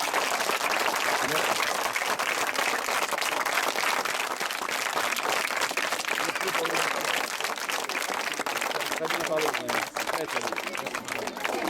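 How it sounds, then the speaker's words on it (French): Sustained, dense applause from a large group of children, loud and steady throughout with no pauses. "Applaudissez beaucoup pour ce ministère"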